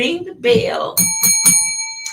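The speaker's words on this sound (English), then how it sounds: "ring the bell" A bell rings in a few bright, quick strikes at a Black History Month celebration, with the last tone ringing on briefly, heard right after a voice speaking up close.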